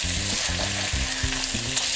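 Bacon and onions fry in a pan, a loud continuous sizzle with rhythmic scraping and knocking as the mix is stirred, close up and with no voices.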